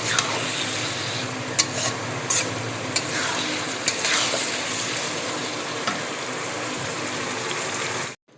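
Potatoes fry in hot oil in a pan, a steady loud sizzle with a spatula stirring and scraping in several sharp clacks, continuous until it cuts off near the end.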